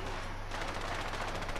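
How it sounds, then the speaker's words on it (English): Shotgun fire in a video game: a burst of rapid, fairly faint shots rattles for under two seconds over a steady low background hum. "snipe her from afar with his shotgun"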